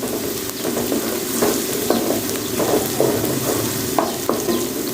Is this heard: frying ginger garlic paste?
yes